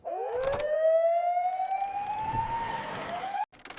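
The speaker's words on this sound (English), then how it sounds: "Wee-woo, wee-woo! The fire truck is on its way." A toy fire truck siren gives one long electronic wail that swoops up and then holds a rising tone, clear and fairly close, with a couple of clicks near the start and a cutoff at the end.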